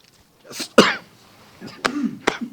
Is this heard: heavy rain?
no